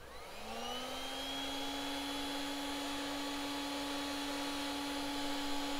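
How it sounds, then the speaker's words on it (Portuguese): A steady, loud whine from a hot-air heating tool rises at the start and then holds constant while melting solder on a circuit board, with no talking over it. "vou esquentar de novo, fazer barulho de novo, tá? Eu vou aquecer aqui e vai soldar"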